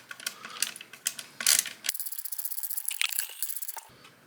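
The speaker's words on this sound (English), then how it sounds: "And we can just take our screwdriver" Small hand screwdriver turning a screw while assembling a K-2SO animated eye controller parts kit, giving quick close ratcheting and clicking rattles in a steady run, with faint handling noise and no talking.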